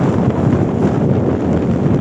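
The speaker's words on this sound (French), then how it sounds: "Il y a du vent." Strong wind buffets the microphone on a volcanic hilltop near Puy de Dôme, a loud continuous low rumble with no pauses.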